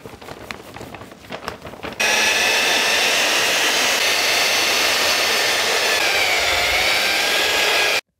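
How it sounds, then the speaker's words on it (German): A power mixer stirs a bucket of tile adhesive, starting abruptly after a few soft knocks and then roaring loud and steady at close range until it cuts off at the end. "dass ich mir auch mal so viel Fliesenkleber anmische, wie ich natürlich auch verarbeiten kann"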